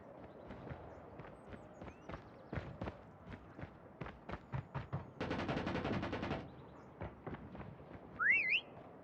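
A short rising whistle from the prop hunt mode in CoD Mobile chirps briefly near the end, rising over busy gunfire bursts, footsteps and game effects.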